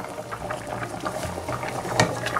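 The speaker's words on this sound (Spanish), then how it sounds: "Ahora la incorporamos a la olla." A thickening mixture poured into a simmering pot of Guatemalan chicken jocón, close bubbling and liquid patter with soft glugs and a brief splash near the end.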